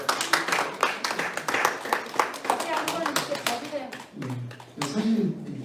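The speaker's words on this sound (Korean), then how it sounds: "박수." A church youth congregation clapping for a student, with brisk hand claps close by, followed by talk as the clapping trails off.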